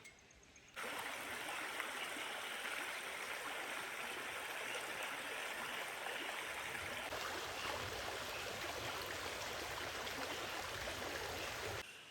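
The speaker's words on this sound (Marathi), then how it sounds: "पाऊस पडला त्यामुळे पराला पाणी आलेलं आहे" A stream swollen with monsoon rainwater rushes steadily, a dense continuous wash of flowing water that stays loud and even throughout, with no voices.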